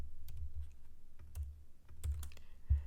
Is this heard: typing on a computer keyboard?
yes